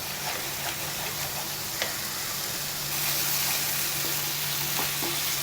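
Chilli, coriander and turmeric powders with garam masala fry in oil for paneer butter masala, a dense, even sizzle throughout that grows slightly louder midway, with faint stirring.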